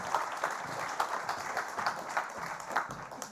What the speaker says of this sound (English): I think there's a round of applause all that over you.